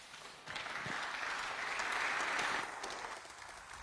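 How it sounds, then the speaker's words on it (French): A conference audience claps warmly after a panel discussion, a steady burst of applause from a medium-sized crowd that swells and then tapers off, heard at a moderate distance with no talk over it. "On peut vous applaudir chaleureusement."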